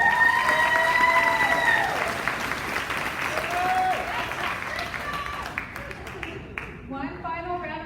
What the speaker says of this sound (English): One final round of applause for all of our graduates.